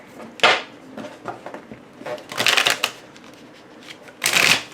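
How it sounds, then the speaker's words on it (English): Tarot cards from a thick deck, riffle shuffled by hand, give three bursts of crisp fluttering flaps, each ending in a brief rattle, close and fairly loud with quiet handling between. "overhanding is fine, and really riffle shuffling is just fine too."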